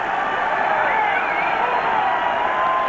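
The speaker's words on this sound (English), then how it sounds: "the crowd encouraging Kukar" A stadium crowd at a 1999 Jets at Patriots NFL football game keeps up a steady, distant roar of cheering and shouting, with no clear peaks or breaks.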